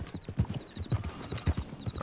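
Horse hooves clip-clop in Red Dead Online, a quick, even rhythm of close, fairly loud hoofbeats repeating across the short clip, with light background ambience and no talk.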